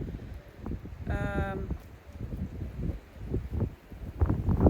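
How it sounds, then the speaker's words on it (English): Strong outdoor wind buffets the microphone in low, uneven gusts with rumbling surges throughout, and a short tonal squeal briefly rises above it. "the wind is really wild right now"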